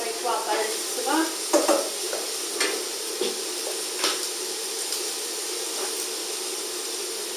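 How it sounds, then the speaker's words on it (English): Carrots and celery being stirred into a pot of red lentil soup on a gas hob, with soft scraping strokes and a faint sizzle; the strokes come in a quick cluster early, then grow sparser. "I'm just giving it a stir."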